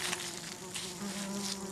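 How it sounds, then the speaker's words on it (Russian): Flies buzz steadily around an animal carcass in the Greek wilderness, a close, continuous insect drone with a few louder passes of wings near the listener. "Для мух туша не только еда, но и инкубатор для их личинок."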